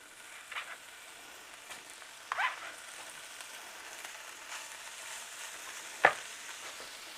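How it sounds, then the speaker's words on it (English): Beef sizzles faintly in a skillet over low heat, a soft steady frying hiss with a few brief pops and clicks of stirring, quiet and close. "I'm going to drop this beef into a skillet."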